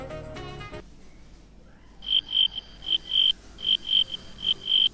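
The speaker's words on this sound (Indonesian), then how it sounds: "Tapi benar-benar itu suara jangkriknya tuh bagus banget." Crickets chirp at night on a horror film soundtrack: a brief musical sting gives way to quiet, and then crisp, evenly spaced bursts of high trilling repeat clearly and close by.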